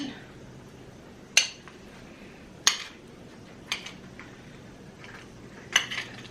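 Utensil mixing butter into a dish for a crockpot meal, giving four sharp metallic clinks spaced apart against a quiet kitchen background.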